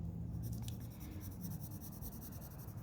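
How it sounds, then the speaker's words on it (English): A soft, thick-leaded pencil scratching across paper in steady, faint strokes while drawing, heard close with no talking. "let's see what that looks like if I go in with this softer pencil"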